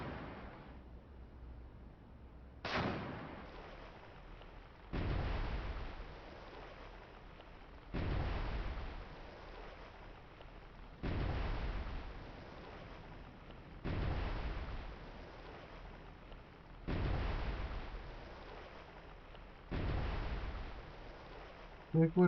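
Naval 5-inch deck guns firing in the submarine warfare game Cold Waters: seven heavy booming shots spaced roughly every three seconds, each a loud thud with a decaying rumble, alone without talk.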